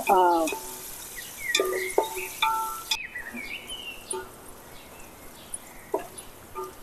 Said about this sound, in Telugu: 5 పీస్ వేయించుకున్నాం ఆయిల్ కాగినాక.